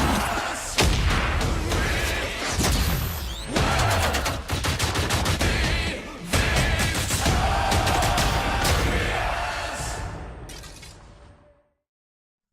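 Explosions and heavy gunfire from the Anthem video game trailer roar almost without pause, a dense, loud wall of booms and rapid shots broken by a few brief dips, before cutting abruptly to silence.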